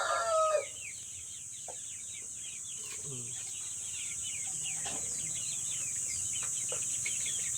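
Backyard free-range chickens raised from chicks, with a rooster's crow at the start followed by scattered soft clucks and calls over a faint steady hiss.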